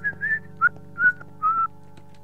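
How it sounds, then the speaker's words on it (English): A person whistles a short, bright tune in several separate phrases, close and clear over a faint low hum, with no talking. "You can whistle. I like whistling."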